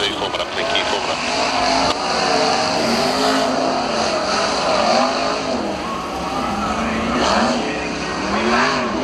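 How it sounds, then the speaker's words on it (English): Race cars in a heat race roar out of turn 2, engines rising and falling in repeated revving sweeps with some tire squeal, while an announcer talks over them throughout. "Those cars are coming out of turn 2, format up, thank you, format up."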